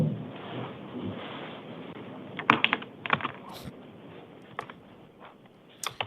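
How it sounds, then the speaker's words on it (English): Someone types on a computer keyboard in a courtroom setting, with uneven bursts of sharp key clicks over low room noise, some louder clusters and pauses between them. "She's typing highly upset right now."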